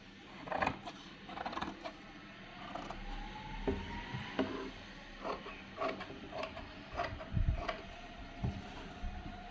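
Blouse lining fabric is cut along a chalk marking, producing irregular snipping clicks and faint creaks close by, with quiet pauses between cuts.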